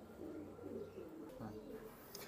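Quality Pakistani pigeons kept for sale coo in low, rolling phrases close by, repeating steadily through a continuous background murmur.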